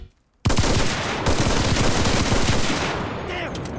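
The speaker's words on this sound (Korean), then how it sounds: "지금부터는 사격 테스트를 실시해보겠다" T20E1 rifle in the game Enlisted firing on full auto, a loud continuous burst of rapid close shots that starts abruptly after brief silence and runs for over three seconds, tapering slightly near the end.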